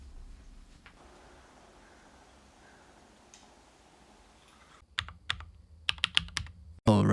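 Typing on a Cannonkeys Rekt1800, a compact 1800-layout mechanical keyboard: a near-silent stretch gives way to a close burst of crisp, uneven keystrokes clacking in quick clusters toward the end.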